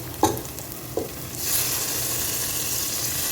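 Garlic and ginger paste hits hot frying oil for Ambur mutton biryani, giving a couple of sharp stirring clatters before a steady, close, loud sizzle takes over and holds to the end.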